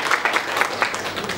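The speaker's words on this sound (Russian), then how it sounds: "Если вы сейчас похлопаете, эти аплодисменты будут вам" Short burst of audience applause at a Russian book-shop author event, dense, even clapping from a small crowd with a few sharper claps standing out.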